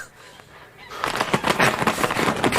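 Large geese honk loudly and repeatedly in a backyard during a radio drama, a quieter opening giving way to a dense, overlapping burst of harsh honking calls close by.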